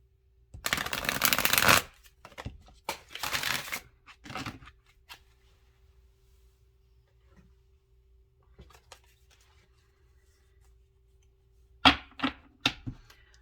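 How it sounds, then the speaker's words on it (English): Oracle cards are shuffled in several quick riffling bursts, then a quiet stretch with faint handling, followed by a few sharp card snaps near the end. "I'm going to shuffle a little bit."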